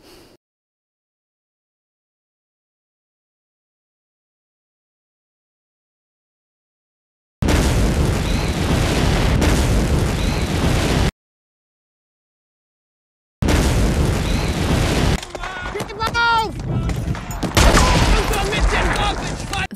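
Battle scene from the war film Saving Private Ryan: loud, dense bursts of gunfire and explosions broken by stretches of total silence, with scattered crackling shots and a voice mixed into the din.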